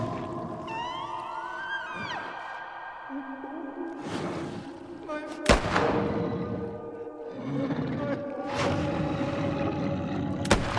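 A single gunshot in The Quarry video game cracks out sharply among eerie, drawn-out tonal game sounds and low rumbles, standing alone as the loudest moment of the scene.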